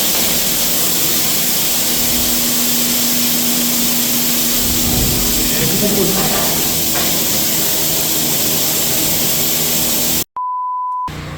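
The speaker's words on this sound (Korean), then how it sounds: "지금 수세미로 내부를 지금 엄청나게 닦고 이제 고압으로 쏠 겁니다" A high-pressure water jet sprays inside a 50-ton water tank during cleaning, a loud steady hiss and roar running continuously, briefly cut off near the end where a short electronic beep sounds.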